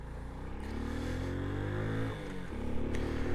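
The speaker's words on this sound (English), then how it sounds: "Bike seems to be nice and quiet and running well, which is good." A Honda Wave 110i motorcycle engine hums while riding on the road, a smooth steady drone that rises and falls slightly as the revs shift, close and continuous.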